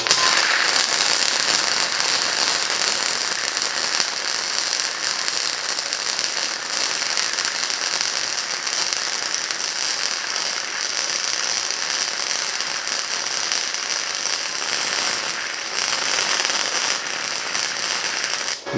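Continuous loud crackling and sputtering of a Titanium Easy Flux 125 flux core welder laying a bead, a dense frying buzz that runs steadily with only brief dips.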